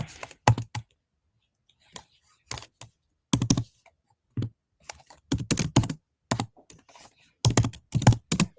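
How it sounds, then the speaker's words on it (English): Computer keyboard typing while labelling a sewing pattern piece in Inkscape, irregular clusters of sharp close key clicks separated by short silent gaps. "the pattern piece that I'm going to type in is the front bottom bodice"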